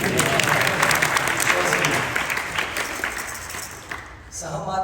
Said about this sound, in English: Clap for Om Prabhu.